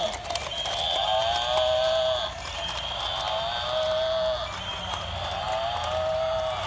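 Water buffalo lowing in a park setting, several long drawn-out calls spaced a couple of seconds apart over a murmur of background voices.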